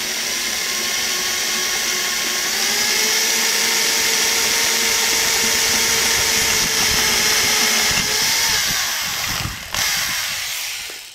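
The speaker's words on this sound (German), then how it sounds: "Beim Anbohren muss man sich ein bisschen auf den Bohrer drauflegen" A power drill whines loud and steady as it bores through a ceramic baking dish, the pitch shifting slightly under load before winding down near the end.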